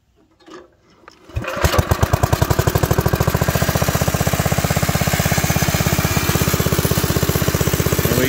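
A 1980 Locke Model 70 triplex reel mower's small engine starts after a short pull and settles into a steady, loud, rapid chugging idle, running first time in 22 years, with no voices over it.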